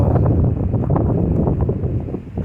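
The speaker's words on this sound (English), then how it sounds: "Of course this wind isn't helping" Steady, blustery wind buffets the microphone throughout on the Pacific Crest Trail near the Park fire, a dense low rumble with gusts swelling and easing, no voices.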